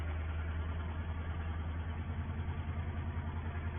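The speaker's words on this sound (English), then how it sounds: "We will jump aboard this tractor and get back to the sugar factory." A tractor engine runs at a steady low chug on a farm during sugar beet lifting, a constant heavy drone with no talk over it.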